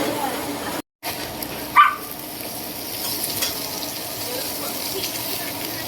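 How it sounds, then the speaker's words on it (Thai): Garlic frying in a pan to make a sweet-sour-spicy sauce for Nile tilapia, a steady low sizzle running throughout with a brief clatter near the start, moderately close and alone. "เจียวกระเทียมให้มันน้ำหอมหน่อยเนี่ยกระเทียมเนี่ย"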